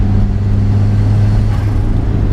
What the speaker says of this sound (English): This sounds just so good, that flutter from the front end.